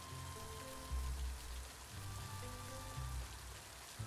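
Steady rain patters in the video game Littlewood, a continuous soft hiss of drops over gentle tonal game music.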